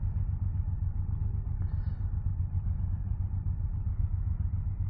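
A 2024 Suzuki GSX-8R motorcycle engine holds a steady low rumble as its takeoff assist lifts the revs slightly, a continuous near drone with no voices.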